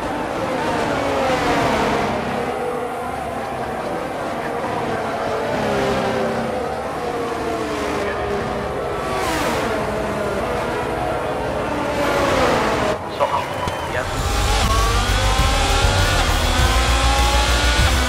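Formula 1 car engine from the F1 22 game at the Saudi Arabian Grand Prix, a high revving whine sweeping up and down through gear changes, loud and close, with a commentator's voice over it.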